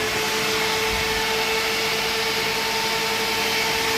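Electric cooling fans run steadily on a 2007 Pontiac G6 GXP, a loud, constant whooshing drone with a steady tonal whine and no change over time; no one speaks.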